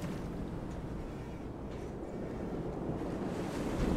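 Stormy wind and rolling ocean waves in the fishing game Mourning Tide, a steady, dense roar of surf and gusts that swells slightly toward the end, with no voices.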